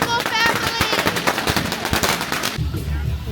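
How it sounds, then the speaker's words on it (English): Dense, crackling bursts of firecrackers set off at household doorways during a street parade in Fujian, China, rapid loud pops running continuously for a few seconds before cutting to a low rumble. "there's firecrackers at the doorway of every door"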